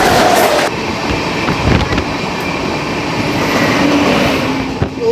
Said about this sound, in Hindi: सामने से आ रही है संघमित्रा सुपरफास्ट एक्सप्रेस।